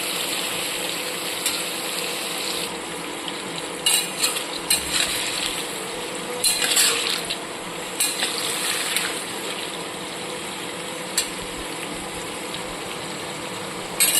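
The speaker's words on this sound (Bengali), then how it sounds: "বেগুনগুলোকে উল্টে পাল্টে খুব ভালো মতো ভেজে নিয়েছি।" Eggplant pieces fry in hot oil, a steady broad sizzle with scattered clinks and scrapes as they are turned, continuous and close with no talking.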